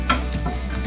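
Ginger goes into a hot pan for Bicol Express, with a steady close sizzle of frying under a few scraping stirs of the spoon, and nobody speaks.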